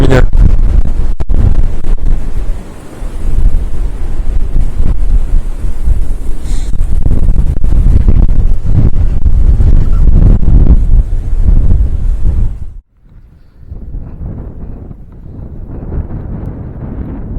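Strong wind blasts across a microphone at a small, grassy, reed-ringed pond while pike fishing, roaring loudly and steadily for most of the stretch before dropping abruptly to a softer gusting rumble.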